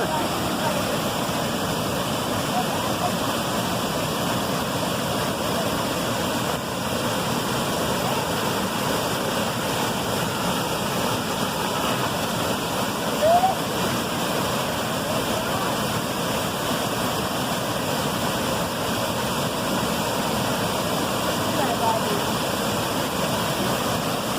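The waterfall at Presidente Figueiredo in Amazonas roars as a steady, dense broadband rush of falling water, continuous and close for the whole stretch with no pauses.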